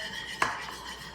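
Wet bath bomb ingredients being mixed, with one sharp utensil clink against a bowl followed by a faint scraping swirl, close and brief, no voices.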